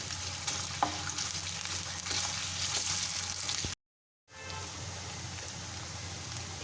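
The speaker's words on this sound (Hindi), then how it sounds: "इसको अच्छे से फ्राई करेंगे, और जब ये चिकन फ्राई हो जाएगा" Chicken fries in a pan with a dense, loud, close sizzle and stirring. The sound cuts out completely for about half a second, then resumes at the same steady level.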